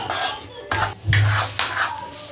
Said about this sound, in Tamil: இனிமேல் எல்லாம் நல்லா நெய் பிரிஞ்சு வரட்டும் அதெல்லாம் நல்லா கிண்டுவோம்